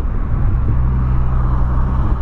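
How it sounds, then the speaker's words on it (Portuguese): A tuned car drives past on a road in Brazil, a loud, close, low engine rumble that holds steady and deep for about two seconds. "Mano, que carro louco esse daqui, ó. Vai passar aqui do lado"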